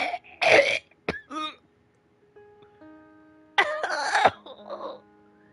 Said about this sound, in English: Those are three distinct coughs.